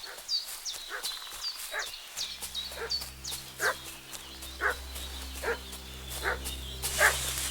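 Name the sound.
dog barking and fussing, from video game Kingdom Come Deliverance II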